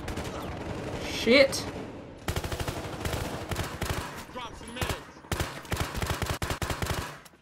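Bursts of gunfire from the Battlefield Hardline beta multiplayer game, with repeated rapid shots in clusters that drop out and return, loud and close, while a player talks and exclaims over the shooting.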